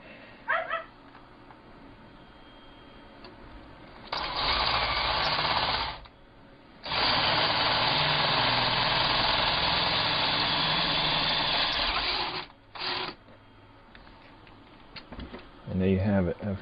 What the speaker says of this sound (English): Now I will finish out the diameter of that hole